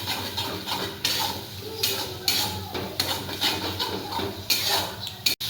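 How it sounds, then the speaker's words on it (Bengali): Masala for doi katla is fried and stirred in a pan, with a spatula scraping and clinking against the metal in rhythmic bursts over a soft sizzle, close and fairly loud, no voices. "আবারও একটু এটাকে এইভাবে 1 মিনিটের জন্য ফ্রাই করে দেব।"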